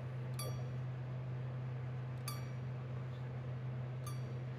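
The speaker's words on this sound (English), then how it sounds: "I kind of take my finger and I ping it along the blade" A taut saw blade flicked with a finger, giving three sharp metallic pings spaced about two seconds apart, each with a short ringing tail, over a steady low hum.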